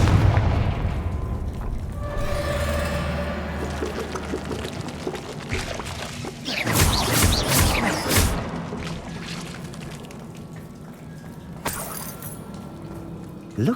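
Confringo blasting spell going off in Hogwarts Legacy, a loud burst of booming explosions around the middle with a rumbling tail and another blast near the end, over game music and ambience.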